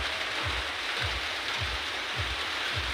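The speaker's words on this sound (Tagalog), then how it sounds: "Ulan talaga sa dito." Steady heavy rain pours in a rural mountain area, a dense continuous hiss close by, with a faint low rhythmic thumping repeating about every half second underneath.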